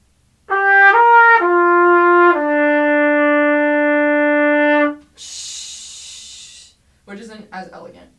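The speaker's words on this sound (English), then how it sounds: "if you just cut that release, it's going to sound like this" Trumpet plays a short rising phrase into a long sustained note that stops abruptly with no tapering release, heard alone and loud, followed by a burst of hiss and some brief faint sounds.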